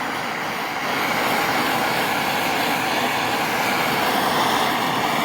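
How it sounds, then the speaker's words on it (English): Blowtorch burning old paint off the mudguard of a Honda CD 175 motorcycle, a loud continuous roaring hiss that holds steady and close throughout. "just get at it with the blowtorch like this."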